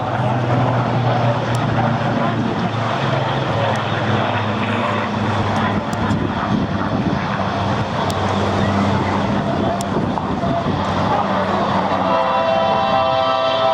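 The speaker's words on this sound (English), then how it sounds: "let's have a listen to that Rolls-Royce engine from the Spitfire" A steady, loud Rolls-Royce engine of a Spitfire at an air show, a deep propeller rumble, continuous and unbroken, with a faint hint of voices underneath.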